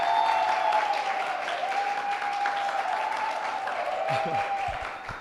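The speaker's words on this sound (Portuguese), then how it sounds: "Dá uma salva de palmas para a diaconia" Sustained applause from a crowd fills the whole stretch, loud and even, with a faint tone running underneath and tapering slightly at the end.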